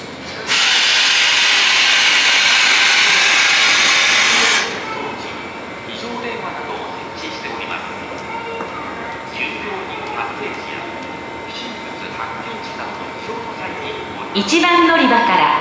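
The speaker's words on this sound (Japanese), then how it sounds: "一番乗り場から電車が発車します。" A subway train at Tenjin Station in Fukuoka rumbles loudly with a dense, harsh roar for the first few seconds, then drops to a steadier, quieter running noise with station ambience. A rising squeal and burst of noise return near the end.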